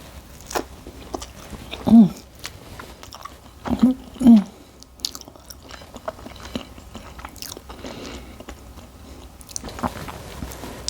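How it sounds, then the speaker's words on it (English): Someone eats a warm blueberry butter swim biscuit, giving a few distinct close bites around the middle with soft chewing between them. "let's go ahead and try this blueberry butter swim biscuit."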